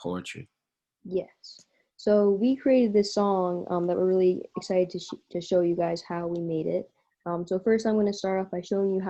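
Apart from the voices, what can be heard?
No distinct noise like a dog, phone or traffic.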